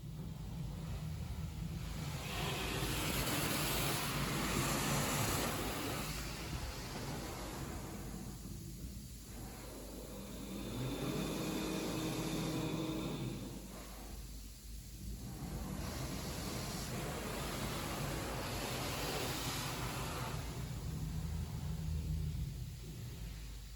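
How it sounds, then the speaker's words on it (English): Washworld Razor car wash drive motor running loud and steady, a dense broadband roar with a high whine that holds throughout, swelling slightly in places, no talk. "Wow, that is a loud drive motor."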